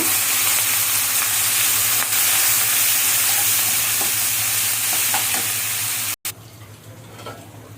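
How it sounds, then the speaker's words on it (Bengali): Chopped onions frying with bata fish in a wok, a loud continuous sizzle with scraping stirring strokes, briefly cut near the end before the hiss resumes slightly quieter. "আমি পেঁয়াজ কুচিটা দিয়ে দিচ্ছি মাছ রান্নার জন্য।"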